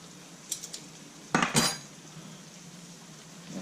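Metal spoon scraping and clinking against a pan while samosa masala with mango powder is stirred, a few light taps followed by two louder scrapes over a faint background hiss.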